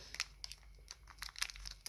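A Pokémon booster pack wrapper crinkles and crackles in short, irregular bursts as hands struggle to open it, close and fairly quiet, with no talking over it.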